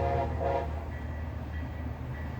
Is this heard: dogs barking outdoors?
no